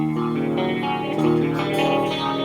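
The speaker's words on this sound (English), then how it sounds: "An E dominant 7 sounds like this." An electric guitar rings out an E dominant seventh chord, strummed a few times with a distorted, effected tone that sustains between strums.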